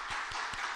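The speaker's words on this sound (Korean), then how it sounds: "우리 또 귀한 강의를 섬겨주신 우리 김희석 교수님께 박수로 감사합니다" A short burst of audience applause for a professor after a Bible lecture on Ecclesiastes and Job, a steady wash of many hands clapping together, moderately faint.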